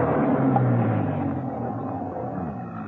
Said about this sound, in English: A car was coming up the driveway.